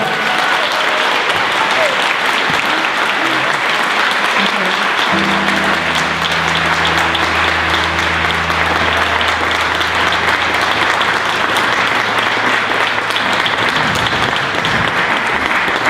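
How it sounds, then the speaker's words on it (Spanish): A presentation audience claps loudly and continuously for a long stretch, with a low sustained musical tone entering partway through under the dense applause. "Gran aplauso."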